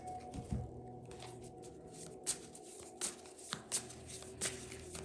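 A Super Lunaris tarot deck being split and shuffled by hand at close range: quiet rustling and sliding with several sharp riffle bursts spaced a second or so apart.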